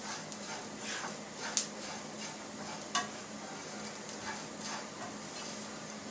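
A spoon stirring turmeric powder into a sizzling capsicum sabji in a pan, soft steady scraping over faint frying hiss, with a couple of sharper taps on the pan and no talking.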